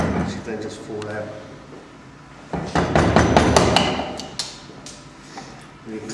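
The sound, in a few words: hand tool cutting a mortice in timber for a lock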